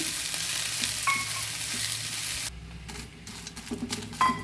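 Fenugreek leaves with onion fry steadily in a pan over a low flame, a continuous close sizzle that drops away partway, leaving quieter crackles and clinks of stirring.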